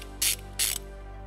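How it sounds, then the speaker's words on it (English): Ratchet socket wrench with a 12 mm socket loosening the positive battery terminal nut on a 2018 Toyota RAV4, two short close ratcheting bursts over a low background hum. "We're gonna remove this nut using a 12 millimeter socket."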